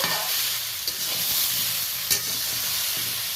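Salted vegetables lightly frying in a little oil for morich jhol, giving a constant close hiss of sizzling with soft stirring scrapes and a couple of brief clinks.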